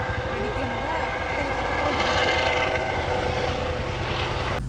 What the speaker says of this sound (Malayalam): ഹെലികോപ്റ്റർ പൊന്തണ.